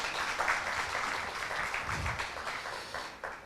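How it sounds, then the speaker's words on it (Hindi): Applause from an audience at a literary conversation event with an actor and poet, a fairly quiet, dense patter of clapping that tapers slightly toward the end. "जोरदार तालियां।"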